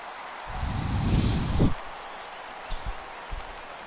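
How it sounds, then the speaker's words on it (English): Baseball stadium crowd in MLB The Show 17 rising into a swell of cheering and applause for a full 3-2 count, building and then fading, followed by a few faint thumps. "Crowd gets up for the 3-2."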